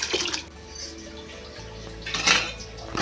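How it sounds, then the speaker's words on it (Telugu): Water splashes into a pot of tamarind rasam on a kitchen stove in short, close bursts, with faint clinks of utensils in between. "మనకి ఎంత చారు కావాలో అన్ని వాటర్ పోసుకోవాలి"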